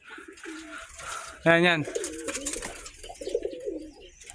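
A young two-month-old pigeon gives one loud, close coo midway, with talking going on before and after it and softer bird sounds in the background.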